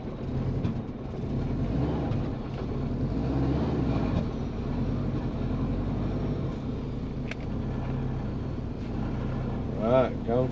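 A Subaru converted from automatic to a six-speed manual drives slowly at low speed, its engine and road rumble a steady low drone throughout with faint creaks near the end.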